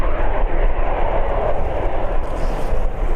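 EasyJet airliner at Birmingham airport, a close, loud rumbling roar with no talk, holding steady throughout.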